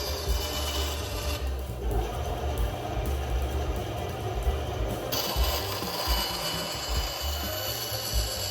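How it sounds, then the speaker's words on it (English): A bandsaw trims a wooden butcher block countertop down to size, giving a steady close rasping cut that runs without pause and with no talk. "Using my bandsaw, I trimmed the butcher block countertop down to size."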